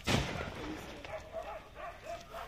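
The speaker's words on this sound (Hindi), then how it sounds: "बहुत जोर से बम का धमाका हो गया" A sharp, loud firecracker bang bursts from inside a box at the start, then fades into a noisy, muffled stretch with faint voices and scattered thuds.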